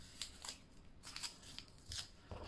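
Scissors cut through paper or tape during a junk journal craft project, making several quiet, crisp snips in quick succession, close by and without talk.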